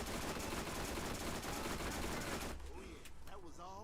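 Dense, continuous gunfire and explosions fill a Borderlands firefight for over two seconds, then fade into quieter game sounds with a voice speaking over them.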